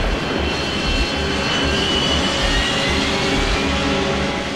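Airliner jet engines spool up to go-around thrust on an aborted landing approach at Funchal, a steady loud broadband roar with low rumble that holds constant throughout, no voices.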